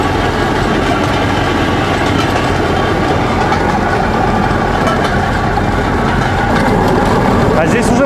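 A train rolls along the narrow-gauge forest railway at Kizema, a loud, continuous rumbling clatter of wheels on small rails heard from on board.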